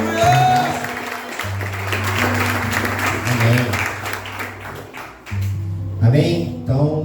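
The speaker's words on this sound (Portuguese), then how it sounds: "Igreja, dá uma salva de palmas." Church congregation clapping to welcome a visitor at a Brazilian service, steady applause mixed with voices and sustained tones from instruments or singing.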